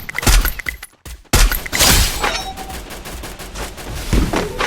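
Rapid gunfire blasts through a video game shooter match, loud dense bursts with a brief silent gap, then continuous firing and impacts with crackling debris.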